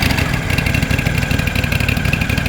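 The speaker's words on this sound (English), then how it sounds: "the machine is idling, so the brush drive is not engaged" An Aztec Sidewinder floor stripping and scrubbing machine engine idles with the brush drive disengaged, producing a loud, close, steady pulsing chug that runs continuously with no voices.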